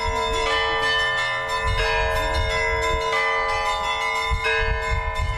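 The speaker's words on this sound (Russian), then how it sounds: "Колокольный звон слышен теперь и в Михайловском районе Гармония." Church bells peal continuously, several bells striking in overlapping, rhythmic patterns with a bright ringing tone, loud and close, with no talking.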